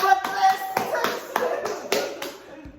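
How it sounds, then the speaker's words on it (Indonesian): A few people clap in a steady rhythm, about one sharp clap burst every half second, while voices talk over it in a casual podcast conversation. "Tepuk tangan buat"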